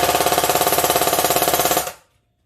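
A JG Steyr AUG A3 airsoft gun fires a rapid burst, about twenty evenly spaced sharp mechanical clacks at close range, then stops abruptly into silence.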